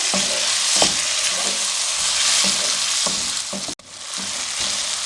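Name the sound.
tomatoes frying in a pan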